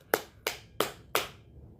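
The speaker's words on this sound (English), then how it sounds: "Slow clap for Elise, everybody." Four slow, evenly spaced hand claps on a live stream, close and crisp, each sharp smack ringing briefly before the next, with quiet room tone between.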